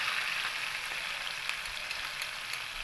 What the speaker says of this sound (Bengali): এই লবণ আর হলুদ গুঁড়ো দিয়েও আমি তেলের সঙ্গে একটু ভাজা ভাজা করে নেব।